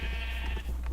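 Sheep in the Minecraft video game bleat in a few short, wavering bursts, close and clear over a steady low hum.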